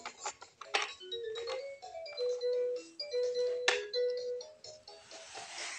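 Electronic sound effect from a VTech Drill & Learn Toolbox toy drill: a chirpy, buzzing toy tone with melodic beeps, moderately loud and close, lasting several seconds without speech.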